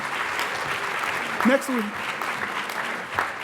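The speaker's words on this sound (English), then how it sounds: "Give her another round of applause for her." An audience at a scholars meeting panel session applauds steadily for about three seconds, a dense, even patter of many hands with a brief voice rising over it midway.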